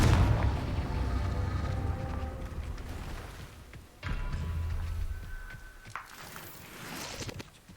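Confringo fire spell blasts in Hogwarts Legacy, a deep booming explosion with rumbling low end at the start, followed by a second heavy burst around midway and smaller crackling impacts, all loud amid game effects.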